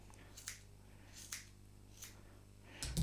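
Scissors snip a guinea pig's hair in four quiet, separate cuts spaced roughly evenly apart, close but faint, ending in a soft rustle, with no voices.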